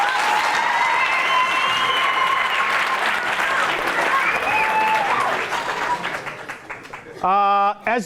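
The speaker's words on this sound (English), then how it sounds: "Give her a round of applause" A room audience applauds a participant who has just answered questions and taken a seat, steady dense clapping at full strength before thinning out, followed by a brief tonal sound near the end.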